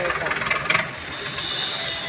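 A boat engine runs on a Bangkok canal at night, a moderate, steady mid-pitched drone with a brief rougher patch early on and voices nearby.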